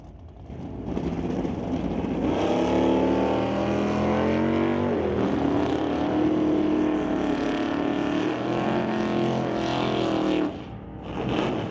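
A Chevy Nova and a Bel Air launch side by side down a drag strip, engines roaring loud and sustained with rising and falling pitch as they pull away, then fading near the end.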